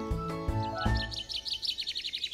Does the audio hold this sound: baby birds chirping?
yes